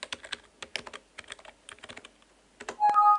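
Fingers typing on a computer keyboard during email account setup, a quick, uneven patter of nearby key clicks that ends with a short electronic tone.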